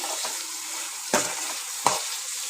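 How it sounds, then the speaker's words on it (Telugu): Onions and green chillies fry in a pan, giving a steady, close sizzle throughout, broken by two sharp bursts as the mixture is stirred. "ఉల్లిగడ్డ పచ్చిమిర్చి ఎర్రగా ఏగేదాకా వేయించుకోవాలి"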